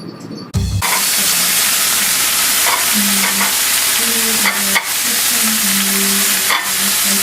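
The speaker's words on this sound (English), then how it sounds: "You have to fry the tortilla shells?" Tortilla shells frying in a pan give a loud, continuous, close hiss that starts abruptly and then holds steady, broken by a few sharp knocks and short dips.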